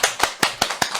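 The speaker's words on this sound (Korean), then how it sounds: "박수라도 치고 그래야지." Steady, evenly spaced hand claps, about five per second, come from a studio audience during a live political talk show, crisp and near with no talk over them.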